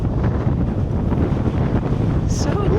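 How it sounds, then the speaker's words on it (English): Steady, loud wind coming off the mountains buffets the microphone near Ardales, Andalusia, with a constant rushing roar and faint voices murmuring underneath. "It's very windy this other side. The wind's coming straight off the mountains there."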